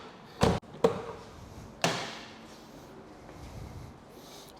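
Door of a 1999 Renault 19 Europa 1.6i being opened and shut, giving a few sharp, close thumps and clicks with quiet pauses in between.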